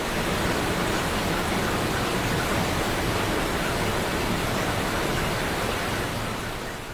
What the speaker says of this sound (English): Hear the rain.